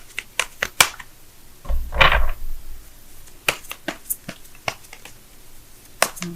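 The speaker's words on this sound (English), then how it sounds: "let me go ahead and shuffle right fast" Tarot cards shuffled quickly by hand, giving a run of sharp, close riffling snaps and clicks with a short burst of softer shuffling in the middle, no talking.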